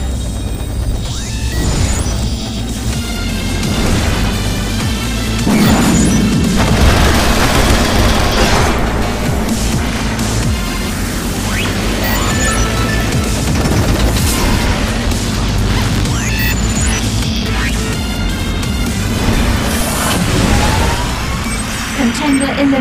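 Missile blasts in the futuristic anti-gravity racing game Wipeout HD Fury, booming and crashing repeatedly over a constant loud roar of racing engines and driving music, with game announcer voice lines mixed in.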